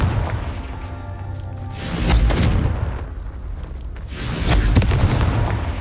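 Confringo fire spell detonating in Hogwarts Legacy, two heavy booming blasts a couple of seconds apart, each a broad rumbling burst over a continuous low game backdrop.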